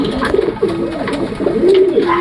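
A male HMT pigeon cooing: a close, fairly loud stream of rolling, throaty coos that repeat in soft pulses with no break.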